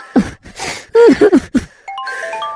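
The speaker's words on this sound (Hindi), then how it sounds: "तभी अचानक से उसकी मोबाइल की रिंगटोन बजनी शुरू हो गई।" A short electronic ringtone melody plays close and clear, beginning with a few rising tones and settling into steady beeping notes.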